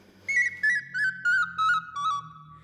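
A very small recorder with holes carved around its edge plays a bright, high sustained note in six separate short blows, each lasting about a third of a second with brief gaps between them. It is clear and close, with no voices.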